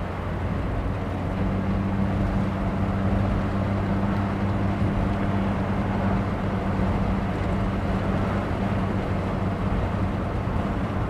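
1966 Ford Mustang convertible cruising down the road, a steady low engine drone mixed with road and wind rumble, constant and unbroken throughout.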